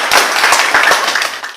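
A class applauds a student, a burst of many hands clapping in a dense, close, lively patter for over a second before it tapers off.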